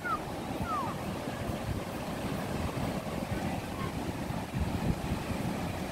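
Waves roll onto a beach under steady wind, a continuous broad roar with rumbling wind buffeting the microphone, heard close and unbroken throughout.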